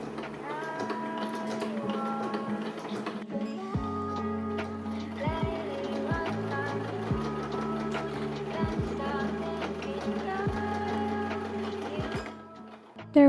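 A sewing machine stitches fabric slowly, its motor whirring in a steady hum with repeated pitch drops as it starts and stops, close up, with no talking.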